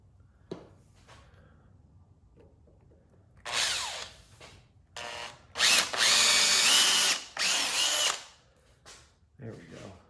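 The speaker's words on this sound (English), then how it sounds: "try a little bit fresher drill bit" A power drill whines in several bursts into metal, drilling a Tormach 440 Y-axis front cover, with short pauses between runs, close and fairly loud.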